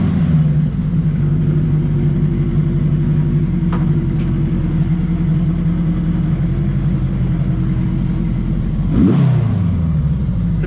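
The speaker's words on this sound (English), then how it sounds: "The bike sounds great. It's been idling really good" A Suzuki GS850 Scrambler motorcycle engine idles steadily up close, a loud, even low rumble that holds throughout, with a brief rev and settling change near the end.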